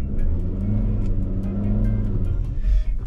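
A car with ESP switched off and Chinese tyres drives off-road, a close, steady low engine drone with slight revving near the end and no talking.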